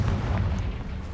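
A Confringo spell explodes in Hogwarts Legacy with a dense, rumbling, low-heavy blast that fills the whole short moment at steady loudness.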